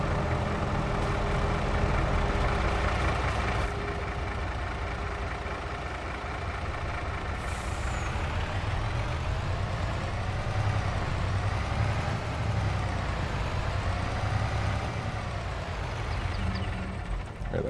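A farm truck fitted with wide tires idles out on a field, with a steady low engine rumble that runs unbroken and fairly loud throughout.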